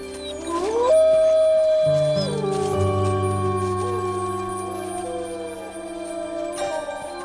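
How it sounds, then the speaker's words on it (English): Wolves howling together in long, rising and falling tones, several voices overlapping and sustained, fairly loud and close. "Wolves howl at any time, day or night, sometimes in response to a distant sound,"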